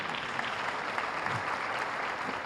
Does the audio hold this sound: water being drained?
no